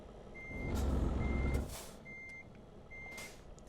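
Reversing alarm of a truck in the Japan Truck Simulator game: steady evenly spaced electronic beeps, four in a row, over a loud engine rumble and an air-brake hiss.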